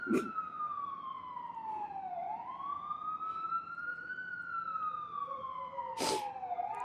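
A wailing ambulance siren sweeps slowly up and down in pitch, loud and close, on a city street in New York, with a short burst of noise near the end.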